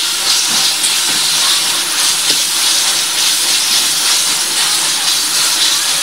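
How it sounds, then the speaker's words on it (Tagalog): Ground meat cooks in a pan with a loud, unbroken, close hissing sizzle that stays even throughout and has faint crackles within it, and no speech. "Lutuin natin yung ating karne."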